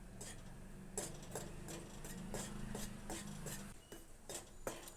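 Wheat flour roasting over a low flame in a hot kadai, stirred with a utensil that scrapes and clinks against the pan in regular strokes, close and clear, with no talking.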